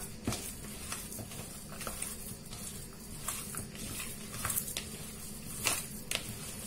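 Hands mixing ground meat with salt, cumin and pepper give a continuous wet squishing and patting, with soft squelches recurring close by at an uneven rhythm and no voices.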